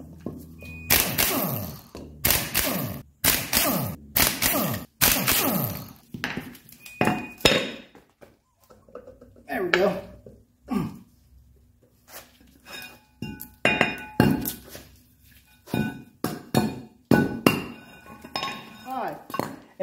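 A cheap Harbor Freight Earthquake XT impact wrench rated around 1,700 foot-pounds works on the hub of a 1985 Mercedes 300CD during suspension and brake work, firing loud, close, rattling hammering bursts early on, followed by scattered quieter metallic clanks.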